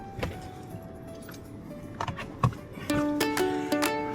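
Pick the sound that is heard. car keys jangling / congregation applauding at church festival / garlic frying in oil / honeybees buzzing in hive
car keys jangling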